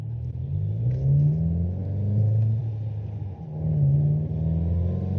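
Throaty 2021 Volkswagen GTI engine revving up in two strong pulls, loud and close, with a steady rumbling idle between them; no talking.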